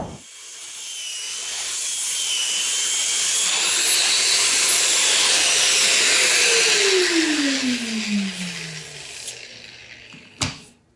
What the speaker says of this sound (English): as I come along with the sander, I can continue to feather this toward the pencil line